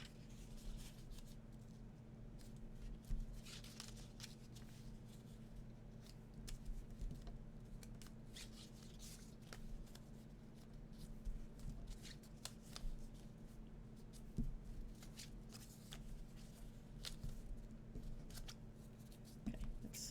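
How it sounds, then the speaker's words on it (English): Scissors trimming folded paper for a paper craft monster, a run of quiet crisp snips and paper rustling close by, with soft handling noises between cuts. "let's trim that off because I folded it funny"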